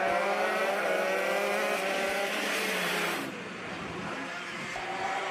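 A pack of shifter kart engines screams at high revs at the start of a race at Adams Motorsports Park, the rising multi-engine whine loud and close before easing into a lower, more distant drone.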